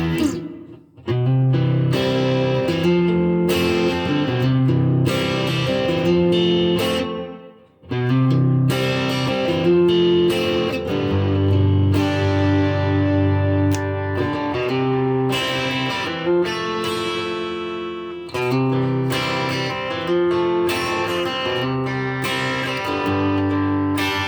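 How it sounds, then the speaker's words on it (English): An electric guitar is played through a pedalboard with reverb switched on, strummed chords and ringing phrases with short pauses, sustaining into lush reverberant tails, loud and close with no talking. "So let's have the reverb on."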